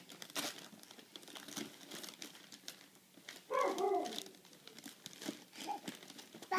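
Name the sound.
tearing wrapping paper off a piano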